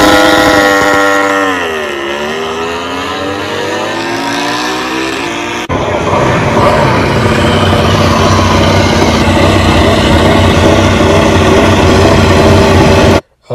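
MotoGP racing motorcycle engine at the Qatar Grand Prix, a loud, continuous high-revving scream that sweeps down and back up as the bike shifts, then holds a harsh, sustained roar before cutting off abruptly at the end.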